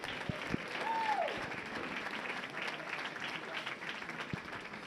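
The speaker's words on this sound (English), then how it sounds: "How about a round of applause for all of our athletes?" Crowd applause for Team USA bowlers at the 2016 U.S. Amateur Championships stepladder finals, a moderate, somewhat distant clapping from the audience with a few sharper claps and a brief voice early on.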